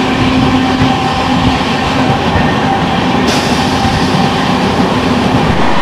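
The Lucknow-Howrah Super First Express runs on a rainy day, a loud, steady rumble of wheels on rails with a faint rhythmic clatter and a brief brighter burst midway, heard from inside the carriage without speech.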